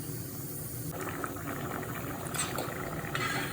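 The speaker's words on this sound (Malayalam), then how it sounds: "തേങ്ങയും ജീരകം എല്ലാം കൂടെ നല്ലപോലെ തിളച്ചൊന്ന് കട്ടട്ടെ" Mango pulisseri with coconut and cumin bubbles in a pot, a steady close simmering hiss with soft irregular pops and gurgles running throughout, no voices.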